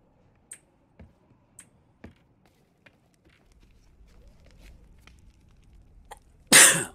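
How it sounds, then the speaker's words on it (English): A character in the pirate video game Sea of Thieves sneezes once, a short loud burst at the very end, after a stretch of faint clicks, taps and low rumble. "Ooh, sneezed."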